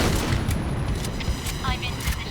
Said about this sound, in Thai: นี่เอาจริงแค่เสียงปืนมันก็มีเอกลักษณ์ดีแล้วนะ